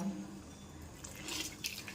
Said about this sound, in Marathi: या पद्धतीने आपल्याला दाबून दाबून यातील पाणी काढून घ्यायचं आहे